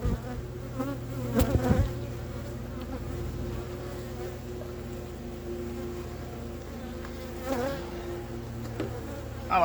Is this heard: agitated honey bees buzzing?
yes